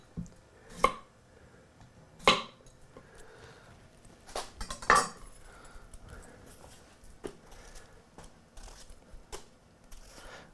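Hand-peeling Yukon Gold potatoes in a kitchen: a few scattered scraping clicks and soft wet squishes, irregular and close, with quiet gaps between strokes and no talking.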